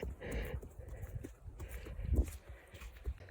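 A horse being walked by hand on both sides, its hooves clip-clopping in an uneven rhythm, moderately close and fairly quiet, with a faint background hum.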